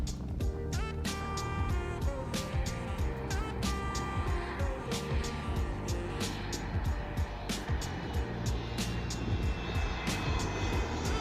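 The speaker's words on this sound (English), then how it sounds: "We stayed down there for quite a while watching the planes come in over our heads." Jet airliners fly low overhead on approach to land at Anchorage airport, a loud, steady engine roar that fills the scene without a break, with no one speaking.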